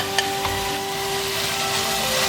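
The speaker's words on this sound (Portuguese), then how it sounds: "Refogando por mais alguns minutos para incorporar os sabores." Bacon, calabresa sausage and chicken thigh sautéing together in a pan for a white bean cassoulet, giving a steady, even sizzle that continues throughout with a couple of faint stirring clicks near the start.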